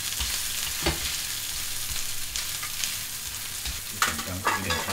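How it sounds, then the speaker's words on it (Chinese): Minced pork and cabbage patties pan-frying over low heat in a hot cast iron wok, a steady soft sizzle with occasional louder crackles and spatula scrapes near the end, no talking. "按住它一下，好像煎burger这样煎"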